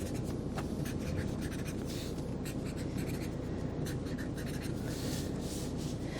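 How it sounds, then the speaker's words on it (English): Pen or pencil scratching on paper as keywords are written down for an 8th grade equations lesson, a faint, close, continuous rustling with small strokes and taps, no talking. "let's go ahead and write down our keywords."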